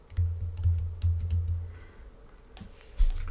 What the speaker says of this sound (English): So I can just start typing line art and grab that.